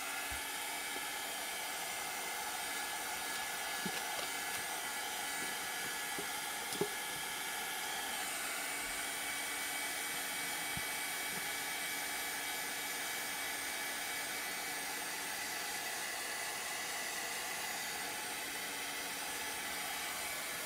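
A hair dryer blows steadily and close for the whole stretch, drying freshly applied wood stain on a chalk-art craft piece, a constant airy whoosh with a few faint knocks and clicks underneath.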